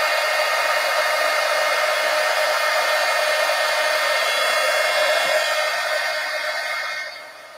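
A hair dryer blows steadily on paper collage pieces, a loud, close, constant whooshing roar that fades toward the end as it is switched off.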